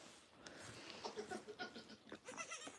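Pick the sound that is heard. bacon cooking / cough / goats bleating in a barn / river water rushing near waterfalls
goats bleating in a barn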